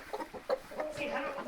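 A rooster clucks outdoors near its flock: a quick run of short, close clucks, then a longer wavering call, with faint farmyard background.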